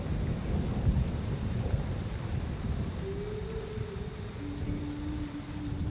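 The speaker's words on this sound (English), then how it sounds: "and it starts to rain in Undutu." Rain falling on dusty savannah grassland with thunder, a dense steady wash of rainfall and low rumble throughout, joined partway by a thin sustained insect-like whine, with no voices.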